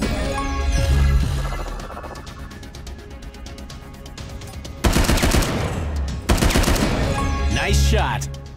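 Rapid bursts of game gunfire in Shadowgun War Games, a mobile PvP shooter. Dense, repeated shots swell into louder volleys near the middle and end, with music and effects underneath.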